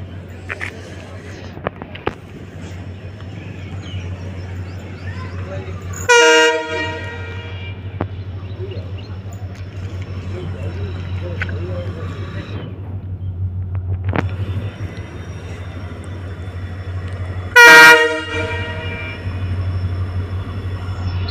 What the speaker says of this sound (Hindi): हमारी 2 साल के बाद चलने वाली ट्रेन दे रही है डिपार्चर फरीदकोट से, प्लेटफॉर्म नंबर 3 से।